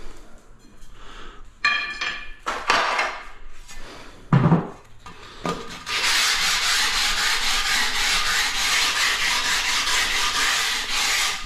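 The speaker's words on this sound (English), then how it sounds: "It's just a light sand like that." Sharp edge of a ceramic tile given a light sanding by hand, a few scattered rubs and knocks at first, then a steady close, even rasping scrape that runs on without pause.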